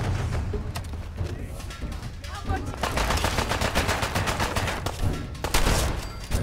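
Dense gunfire in the Fallout 4 video game, rapid automatic bursts and repeated shots crackling almost continuously and loud throughout.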